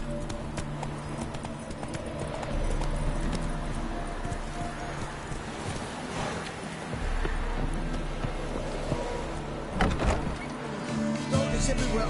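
Roach, a horse in The Witcher 3 video game, galloping with rapid, rhythmic hoof clip-clops over ground, loud and close, continuing steadily with brief shifts in intensity.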